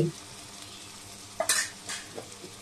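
Spices (turmeric, chili powder, cumin and spice mix) being stirred and fried in a pan for a koi fish curry with potato and tomato: a low, steady sizzle broken by a few short, sharp scraping strokes near the middle.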